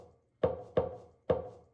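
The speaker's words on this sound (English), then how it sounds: "took the setting the bowl down sound" A bowl set down on a surface, processed as a kick drum sample, hits three times in a steady beat, each a short, punchy thump with a quick decay, close and alone.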